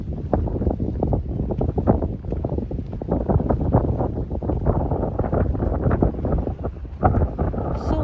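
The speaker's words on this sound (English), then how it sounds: "So windy." Strong wind buffets the microphone at a San Jose shoreline overlooking the bay, a steady loud roar with gusts throughout and no talk.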